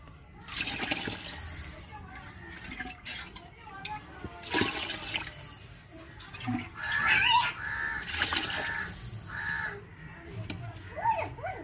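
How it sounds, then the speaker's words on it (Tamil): Water is poured into a cooking pot while making egg biryani, a sustained splashing gush that comes in several bursts, with crows cawing in the background and a voice speaking at times. "தேவையான தண்ணி ஊற்றிக்கிறோம்."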